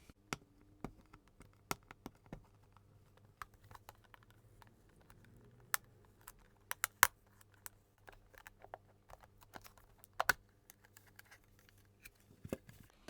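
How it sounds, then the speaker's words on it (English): Plastic seals peeled off toy packaging for a swimming axolotl toy, heard as a run of small, sharp, close crackles and ticks, sparse and irregular, with no talking. "So I think we'll probably peel this bit here to get access to it."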